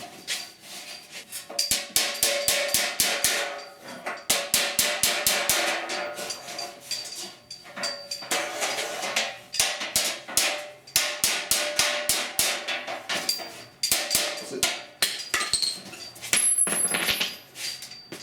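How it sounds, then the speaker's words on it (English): Sharp metallic hammer strikes ring out in rapid bursts against a warped metal panel backed by a dolly, pausing briefly between flurries, close and loud. "I'm going to hammer and dolly this back down some more right quick."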